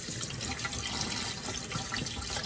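Tap water runs steadily over raw chicken being rinsed in a kitchen sink, a close, continuous splashing wash with slight dripping texture and no talking.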